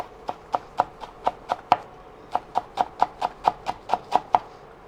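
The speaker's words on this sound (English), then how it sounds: "what I'm going to need to do is chop up some fresh basil" A knife chops fresh basil on a cutting board in a quick, even rhythm of sharp knocks, close and clear, with one short pause partway through.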